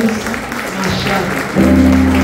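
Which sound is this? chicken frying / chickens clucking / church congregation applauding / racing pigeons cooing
church congregation applauding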